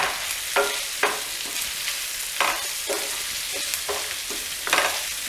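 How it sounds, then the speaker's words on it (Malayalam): Boiled yam with curry leaves stirred in a pan, a continuous sizzle broken by several sharp scraping strokes of the spoon, close and loud, with no voices. "ഇനി നമുക്കിതൊന്ന് ഇളക്കി കൊടുക്കാം"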